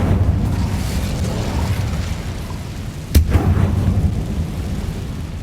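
A sudden whooshing burst from an Incendio fire spell in the Hogwarts Legacy video game cuts sharply through a low rumbling game ambience about three seconds in, then fades back into the background.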